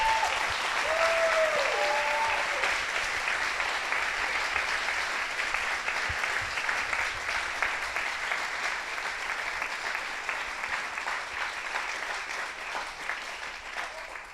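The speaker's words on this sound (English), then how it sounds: "deserve a hefty round of applause. So please give it to them" Dense, sustained audience applause at a live stage show for a mental-health storytelling event in Bentonville, steady and full, easing slightly toward the end after a brief whistle near the start.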